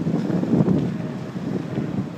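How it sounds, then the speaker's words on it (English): Strong wind buffets the microphone outdoors at Big Cabin, Oklahoma, a loud rumbling roar that surges in gusts and never settles, with no voices. "Man, oh man, it's just windy."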